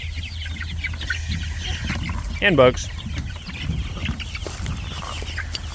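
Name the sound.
chickens clucking on grass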